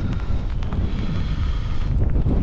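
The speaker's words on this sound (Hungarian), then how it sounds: "pont most fúj a szél" Strong wind buffeting the microphone outdoors beside water during a fishing session, a loud continuous low rumble with gusty swells and no talk.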